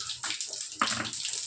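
Mustard seeds and whole cumin hit hot oil in a pan for a bitter gourd curry, sizzling and crackling in quick, bright bursts that flare up and settle.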